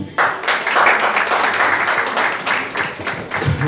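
Audience applause at an Iqbal Day ceremony as an honored guest is welcomed to the stage, dense clapping from a crowd that rises quickly and stays loud and sustained before thinning slightly at the end.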